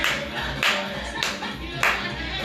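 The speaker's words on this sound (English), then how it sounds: "start clapping your hands" Church congregation clapping hands in a steady beat, with strong accents roughly every 0.6 seconds over continuous background chatter and room noise.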